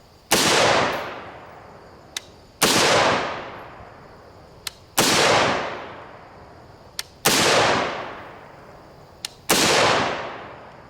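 Five evenly spaced, loud rifle shots of 5.56 NATO 55gr FMJ BPS ammunition from a short 10.5-inch barrel, each a sharp crack with a lingering outdoor decay and a faint click between shots.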